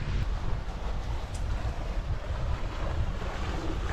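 Steady wind buffets the microphone over rushing waves as a sailing boat gets under way in about ten knots of breeze, a constant loud wash with no voices.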